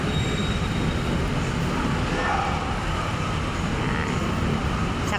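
A light rail train rumbles in and approaches, a steady broad roar of wheels and motor with faint squeal, over busy station ambience.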